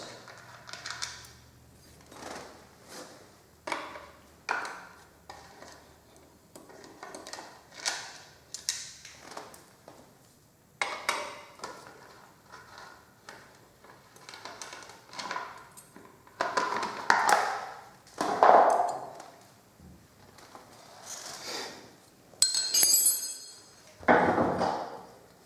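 An 8mm wrench works loose the fork guard bolts on a Yamaha WR250R motorcycle, giving scattered close metallic taps, clicks and ratcheting bursts with brief rustling between them, fairly quiet throughout.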